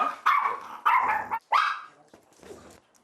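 An anxious, fearful dog wary of a stranger barks loudly in three sharp bursts, followed by softer yelping and whining sounds, close by with no talk.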